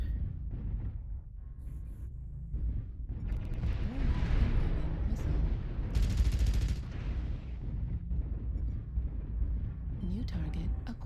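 Machine gun fire and explosions in a mech combat video game, a dense continuous rattle of gunfire with booming blasts underneath, loud and sustained throughout, with game voices talking over it.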